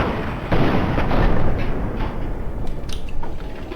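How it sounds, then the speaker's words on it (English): A frag grenade explodes in Fallout 3 during a fight with a raider behind sandbags, a loud close boom followed by rumbling gunfire and crashing combat noise. "that's a frag grenade"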